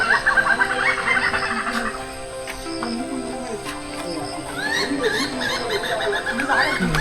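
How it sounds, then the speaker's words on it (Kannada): Birds call repeatedly in a foggy monsoon forest at Kavaledurga, with bright chirps and short trills rising over steady rain-soaked ambience. Some calls sound near and some farther off. "ಇಲ್ಲಿರೋ ಪಕ್ಷಿಗಳ ಸೌಂಡ್ ಒಂದ್ಸರಿ ಕೇಳಿಸ್ಕೊಳ್ರಿ"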